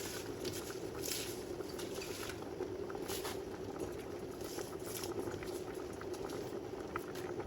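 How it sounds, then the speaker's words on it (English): Lentil soup simmers in a pot, giving a soft, continuous bubbling and gentle popping that stays steady and fairly faint from start to finish. "our soup is simmered for a half hour and those lentils are getting nice and soft"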